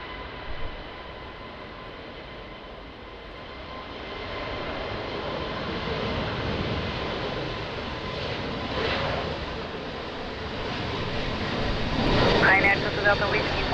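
A jet airliner takes off at Lisbon Airport on a windy day, its broad engine roar steady and moderately distant throughout, swelling near the end, with air traffic control radio chatter running underneath.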